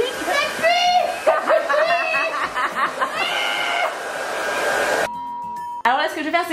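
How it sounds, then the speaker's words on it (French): A hair dryer blows steadily at close range to dry Halloween face makeup, its airy whir running under lively talking and giggling voices before briefly cutting out. "On sèche, mais par contre sécher bien de loin pour justement ne pas chauffer."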